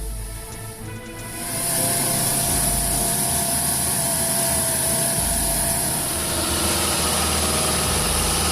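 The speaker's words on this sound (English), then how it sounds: "That truck's engine was roaring like a lion." A heavy truck engine roars in a steady, loud, low drone that swells after the first second and holds, with no voices over it.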